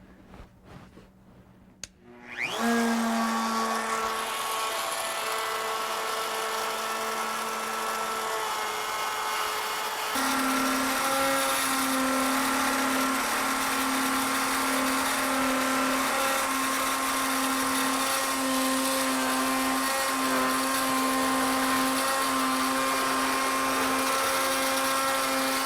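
A router bit cuts into wood stock turning on a lathe, starting with a click and spin-up into a loud, steady high whine with a tonal hum that shifts pitch partway through and runs continuously.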